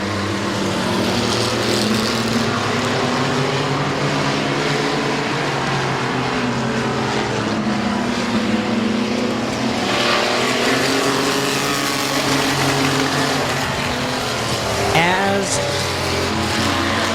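Race cars howl around the dirt oval at Midvale Speedway, a loud, sustained roar of engines rising and falling as the pack passes, with a commentator calling the race over the noise.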